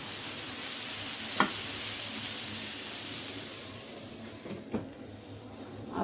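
Bottle gourd peel fries in a pan with salt and turmeric, a continuous soft sizzle with a few sharp scrapes as it is stirred, close and steady and with no voices.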